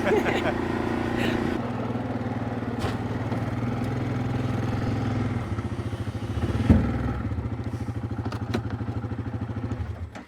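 A four-wheeler ATV engine runs steadily out on a hot farm field by an irrigation pivot, a close mid-pitched idle with a slight shift in tone partway through and a brief clunk near the middle.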